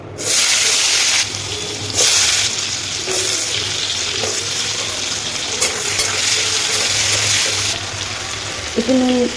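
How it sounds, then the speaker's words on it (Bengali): Cut potatoes frying in oil with salt and turmeric in a wok, loud close sizzling that swells and drops in bursts as they are stirred, with no talk. "একটু নুন আর হলুদ দিয়ে ভেজে নিচ্ছি আলু"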